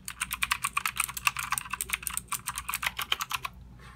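Fast, steady typing on an Aukey KM-G3 mechanical keyboard with number pad, loud clacky keystrokes in a dense continuous run, close up, stopping just before the end with no talking.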